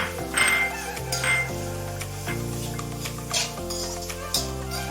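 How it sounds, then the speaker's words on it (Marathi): Capsicum and finely chopped cabbage with carrot being stir-fried in a pan for tawa pulao, with a loud spatula clinking and scraping against the metal over a soft steady sizzle and no voices. "आता आपल्याला सर्व भाज्या छानपैकी परतून घ्यायच्या आहेत"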